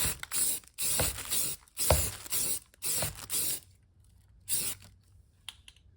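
Primer is sprayed onto a car body under repair for rust in several steady aerosol bursts, each lasting about half a second to a second with short pauses between them, close and fairly loud, with no talk.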